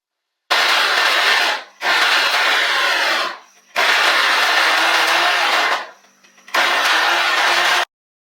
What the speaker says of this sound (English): So here I am just blending my ginger, dates, cloves